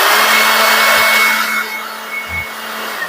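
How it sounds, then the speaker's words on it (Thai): A cordless vacuum cleaner switched to blower mode pushes out a strong, steady rush of air with a thin high whine on top. It runs loud and close for the whole stretch, with no one talking. "เนี่ยเป่าลมได้แรงๆแบบนี้เลยนะครับเนี่ย"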